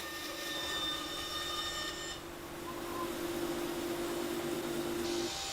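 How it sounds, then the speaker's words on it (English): A bandsaw rough-cutting shapes from maple timber, giving a steady whining drone with a tonal hum throughout and a brief dip in the middle, close and continuous. "just cutting the shapes out rough on the bandsaw"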